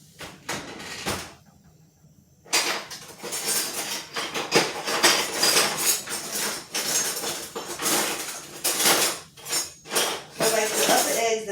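Clattering kitchen sounds come from a spatula scraping and tapping a pan while vegan powdered eggs are reheated, with knocks, scrapes and a brief quiet gap, mixed with someone talking nearby.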